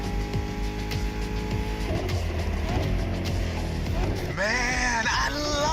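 An American muscle car engine in the racing video game The Crew Motorfest revs and drones with rising and falling pitch, ending in a sharp rev climb, heard alongside background music.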